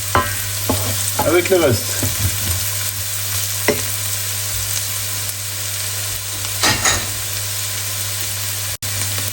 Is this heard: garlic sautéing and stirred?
yes